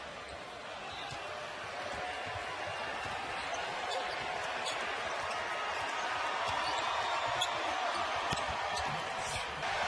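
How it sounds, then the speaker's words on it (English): A basketball is dribbled in the final seconds of an NBA game at Oracle Arena, faint bounces under a loud, roaring crowd and a commentator talking. "And they'll dribble it out."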